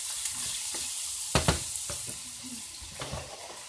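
Minced meat for spaghetti bolognese hitting a hot pan with browned garlic, a loud, continuous sizzle with a couple of sharp stirring knocks, heard up close.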